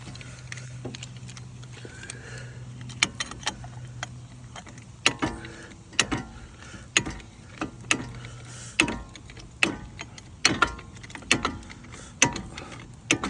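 A brake caliper piston is pushed back into its bore, producing a series of sharp metallic clicks and ratcheting snaps at irregular intervals that come more often toward the end, close by over a low background hum.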